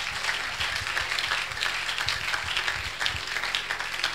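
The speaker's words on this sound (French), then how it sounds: "applaudis, applaudis." A congregation applauds during a lively church service, a dense, steady wash of clapping filling the room at an even level throughout.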